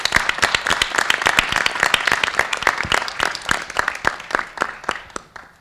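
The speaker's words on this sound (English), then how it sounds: "a round of applause for all of our distinguished judges." An audience at a legal education competition final gives a round of applause for the distinguished judges, crisp individual claps crowding together near and loud, then thinning out toward the end.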